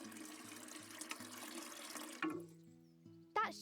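Watering can pouring water in a farming video game, a steady splashing trickle heard over looping game music, ending with a short bright chime.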